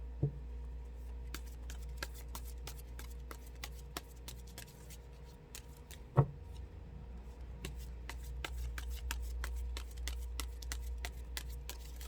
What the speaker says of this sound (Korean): 1월 3일 금요일 하루 한 장의 카드 섞어보도록 해보겠습니다